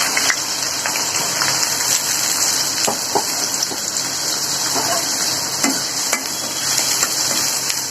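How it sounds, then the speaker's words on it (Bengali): Onions frying in hot oil with cumin in a pan while a tilapia fish curry is being started, a steady broad sizzle running throughout with faint stirring clicks, close and fairly loud, no talk. "পেঁয়াজটা লাল করে ভাজে নিব"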